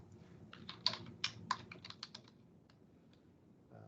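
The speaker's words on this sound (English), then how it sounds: "I'm gonna start typing that in there." Keystrokes on a computer keyboard in a quiet room, a quick cluster of sharp clicks typed in short bursts that thin out into a few scattered taps.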